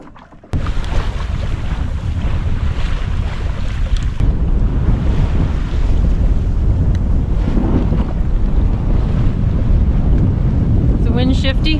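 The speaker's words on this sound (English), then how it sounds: "A south wind today, and it's supposed to be about 10 to 15 or 16 knots" South wind of around 10 to 15 knots blowing across a sailboat, a loud, steady roar of gusts and microphone buffeting with water rushing beneath, and voices faint under the noise.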